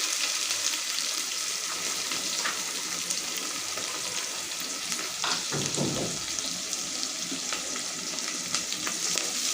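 Thinly sliced onions, added after cumin and mustard seeds, fry in hot oil for mutton curry with a dense, constant sizzle, and a few stirring scrapes break in close by, without speech.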